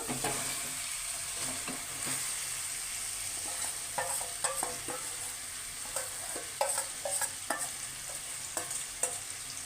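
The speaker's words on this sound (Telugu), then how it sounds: "సో దీన్ని 1 నిమిషం ఇలా ఫ్రై చేసుకోవాలి." Fish curry masala for a sea fish (Gulivindalu) curry fries and gets stirred in a pan, a constant close sizzle broken by repeated spoon scrapes and light clinks throughout.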